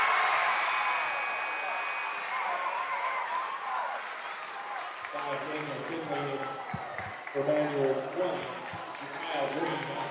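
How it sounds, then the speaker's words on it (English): A high school basketball crowd during free throws makes a steady murmur of noise that swells into louder cheering and scattered clapping, with an announcer talking over it. "Crowd is noisy."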